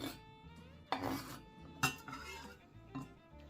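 A spatula scrapes and clinks against a bowl while herbs are mixed into minced meat, with a few sharper knocks standing out over a steady low kitchen hum.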